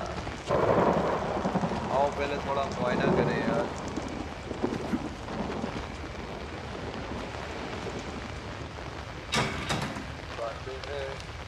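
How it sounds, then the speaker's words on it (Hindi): Rain hisses steadily as thunder rumbles in the video game Outlast, with a loud crack near the end, under occasional talking. "बारिश भी शुरू है यहाँ।"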